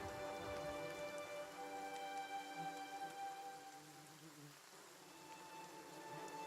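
Rain in the Pillars of Eternity video game patters softly and steadily, faint and continuous, with sustained musical tones layered over it.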